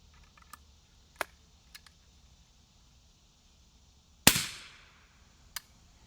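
An AAC Handi single-shot rifle fires one suppressed round through a Liberty Mystic X suppressor. It gives a single sharp, fairly loud crack with a short fading tail, among a few faint mechanical clicks before and after, outdoors and with no talking.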